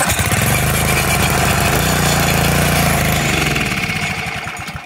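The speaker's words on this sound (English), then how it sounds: "I just want to see if this thing will start and run." A small engine pull-started and running on choke after a stuck-valve repair, chugging loudly and steadily close by for several seconds before its sound tapers slightly at the end.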